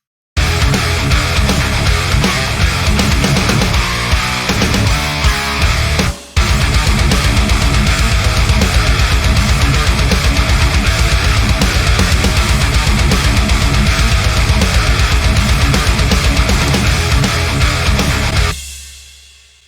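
A dense metal song mix with a mastering chain and the Mojo plugin engaged, loud and continuous with a brief dropout near the middle before cutting off at the end.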